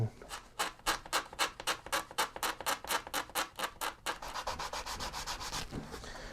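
Sanding block worked back and forth across a steel-string guitar top, a steady run of about two dozen rhythmic scrubbing strokes, close and fairly loud, quickening slightly toward the end with no talking.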